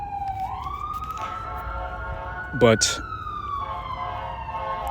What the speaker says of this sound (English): I just wanted those sirens to pass before I started going again.